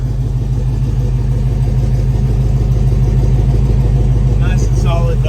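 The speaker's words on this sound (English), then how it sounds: "This truck has the original number matching 305 motor with the 4-speed transmission." A 1984 Chevrolet K5 Blazer with its original 305 V8 and four-speed manual runs at a steady idle, a deep continuous rumble that stays even from start to finish, with a few brief higher sounds near the end.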